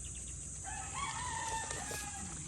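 A rooster crows amid clucking chickens on a mulberry farm, the call rising and falling across a couple of seconds over steady background hiss, moderately distant.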